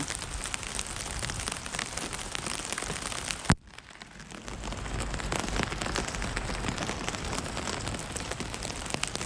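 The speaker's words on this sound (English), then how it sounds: "obviously it's raining right now" Steady rain falls around a parked 1995 Chevrolet K2500 pickup, a dense continuous patter on surfaces that dips briefly to near quiet partway through before returning at full strength.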